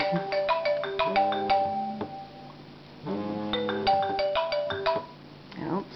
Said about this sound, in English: That's just my phone.